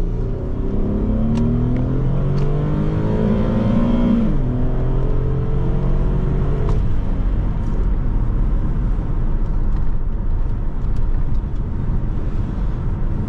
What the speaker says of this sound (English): setting off in this 2017 Infiniti QX50